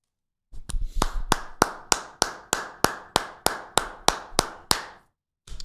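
Steady, evenly spaced claps, about fourteen sharp beats in an unbroken rhythm, start after a short silence in a live sports talk show studio and ring out crisp and close before stopping.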